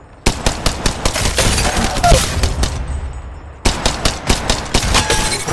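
Rapid automatic gunfire from Apex Legends gameplay, loud bursts of shots in two stretches separated by a short pause, with game effects in between.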